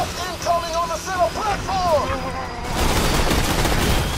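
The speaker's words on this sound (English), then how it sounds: "How many auto cannons are there here?" Autocannons fire in Borderlands 2, a loud, dense burst of rapid shots that swells into sustained roaring noise during the second half, with a person talking over the first part.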